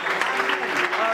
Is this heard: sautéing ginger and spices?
no